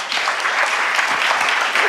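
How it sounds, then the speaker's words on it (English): A live audience at a business talk session applauds steadily, a dense, even wash of clapping filling the room for a couple of seconds without pause. "Let's clap it up for this guy."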